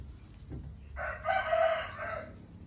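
A gamecock rooster crows once nearby, a loud, rasping call of about a second and a half, with no voices over it.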